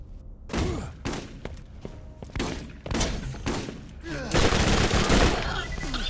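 Rapid gunfire in the shooter video game Borderlands, played while the character jumps: a series of loud, punchy shots and bursts with thuds, growing into sustained heavy firing toward the end.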